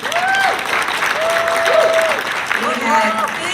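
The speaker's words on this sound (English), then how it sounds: "let's give our drummers a round of applause" An audience applauds for the drummers with dense, steady clapping, mixed with a few cheers and whistles.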